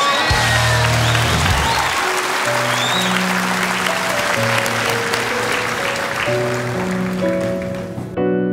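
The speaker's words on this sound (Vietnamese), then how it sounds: "Xin quý vị cho một tràng pháo tay cho thí sinh Châu Đoàn" Audience applause for contestant Châu Đoàn at a singing competition semifinal, a loud sustained round of clapping with some crowd noise, while music with steady low instrumental notes begins underneath and carries on, ending abruptly.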